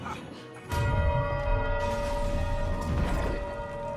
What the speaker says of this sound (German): Das ist eine große Glocke.